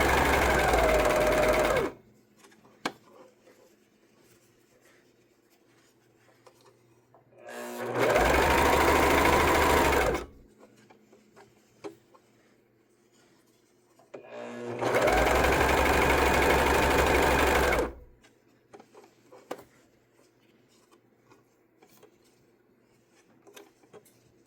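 A sewing machine with a cutter foot stitches a shortened sleeve in three loud bursts of rapid whirring, separated by quiet pauses with faint handling clicks.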